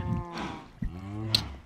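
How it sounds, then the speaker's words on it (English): Cow mooing in the video game Minecraft: a couple of low, drawn-out moos with harmonic tone, close and fairly quiet, with no talking. "Over here, we have the cows."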